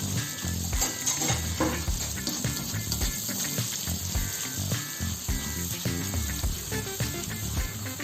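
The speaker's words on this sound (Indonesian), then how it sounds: "Goreng sampai matang benar." Nasi goreng sizzles and crackles in a hot pan, a dense continuous frying hiss with occasional stirring clatter, close up and without speech.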